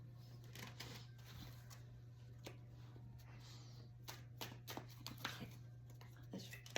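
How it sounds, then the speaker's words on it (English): Soft, rapid riffling and snapping of tarot cards being shuffled, in short bursts over a faint steady hum. "I'm going to shuffle it a couple more times."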